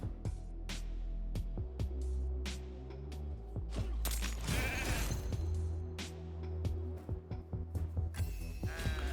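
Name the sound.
sheep bleating from a video game ability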